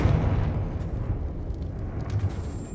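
A Confringo fire spell bursts in Hogwarts Legacy with a heavy, rumbling explosion that hits loud at once and rolls on as a crackling boom before slowly fading.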